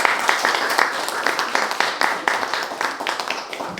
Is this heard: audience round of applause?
yes